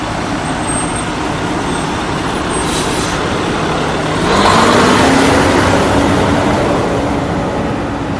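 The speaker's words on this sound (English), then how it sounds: "we've stand by everybody as this fire truck pulls in" A fire engine pulls in at a burning car audio and tint shop, its heavy diesel rumble growing louder and nearer as the engine note rises, over a constant roar of outdoor background noise.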